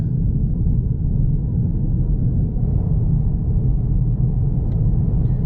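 A Peugeot 308 1.2 PureTech with EAT8 automatic, 2022 GT, drives on the road, giving a steady low engine drone and rumble of road noise at constant loudness throughout, with no talk.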